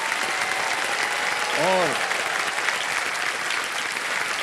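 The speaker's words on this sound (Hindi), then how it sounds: "तालियां बज जाएं उनके लिए" Studio audience on the KBC quiz show (season 15) bursts into steady, dense applause for a contestant who quits with his winnings, with a brief word from the host over the clapping.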